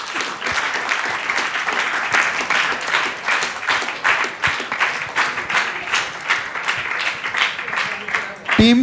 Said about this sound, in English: I want loud claps.